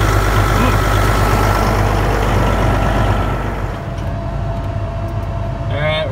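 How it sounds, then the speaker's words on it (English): A large tractor fitted with dual wheels idles close by, giving a loud, steady low engine rumble that runs unbroken throughout. "we decided to go with the tractor with the duals"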